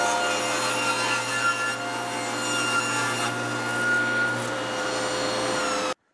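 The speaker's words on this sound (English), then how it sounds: "Now I'll take it over to my crosscut sled." Table saw blade cutting through wood on a crosscut sled for a chess board project, a steady loud whine with grinding rasp that runs continuously for about six seconds, then stops abruptly.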